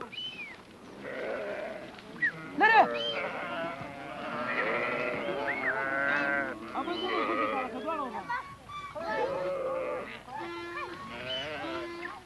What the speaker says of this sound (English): Each year, Anwar takes his father's flocks to the high mountain pastures, continuing the family tradition of sheep breeding